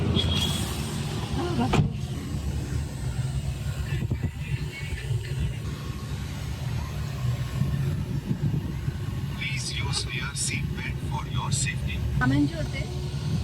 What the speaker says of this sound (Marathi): चला कार आली